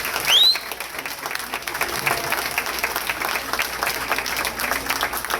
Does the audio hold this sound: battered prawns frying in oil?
no